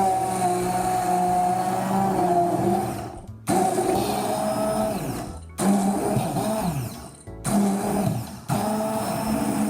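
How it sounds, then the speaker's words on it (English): A blender motor whirs loudly nearby making strawberry milk, its pitch shifting as it runs in several bursts with brief stops between them. "you can do this in a regular blender"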